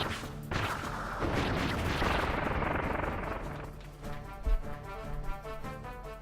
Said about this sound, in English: avoid the explosions and the flames that crop up as a result